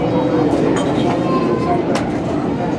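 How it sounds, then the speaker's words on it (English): Grand Canyon Railway steam locomotive 4960 rolling along in the Arizona desert, a steady loud rumble with faint squeals and rattles throughout. "Actually, it looks like the train's moving faster than the dust devil"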